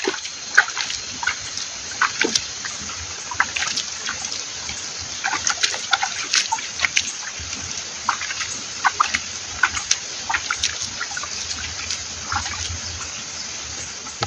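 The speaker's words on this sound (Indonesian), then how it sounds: "Kemudian kita siram lagi untuk yang kedua kalinya" Salt solution poured over goat manure for a second soaking, a steady close splashing and trickling of liquid onto the heap with scattered crackles, continuing for about fourteen seconds without talk.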